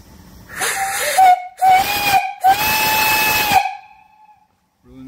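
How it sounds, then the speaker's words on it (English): A steam engine boiler's whistle, an American steam pump setup with copper tubes, blows three loud, steady tonal blasts with short gaps and hiss at the edges, close and alone with no talk. "Really nice whistle. I'll blow it here if you turn down your volume a little bit."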